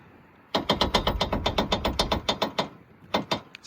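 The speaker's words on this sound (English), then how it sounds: "It's fully tightened down." Rapid ratchet clicks tightening a bolt on a car's aluminum suspension knuckle, a fast steady run of sharp close clicks for about two seconds, a pause, then a few more strokes.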